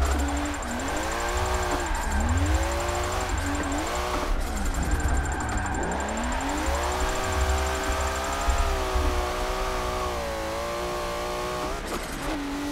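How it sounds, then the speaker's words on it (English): A turbocharged car drifts in Forza Motorsport 7, heard from hood view. The engine is loud and sustained, its pitch swinging up and down through repeated rev surges as the car slides, with a steady high turbo whistle over it. "We're gonna drift in hood view just to hear that turbo."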